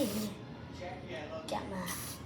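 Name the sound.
insect repellent spray being sprayed on body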